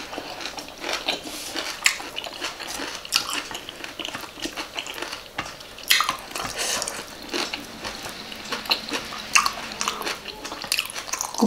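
Crunchy sweet liver salad, a Thai Isan dish with fresh crisp vegetables, being chewed up close in irregular bursts of wet crunching, with light clinks of utensils and no talking.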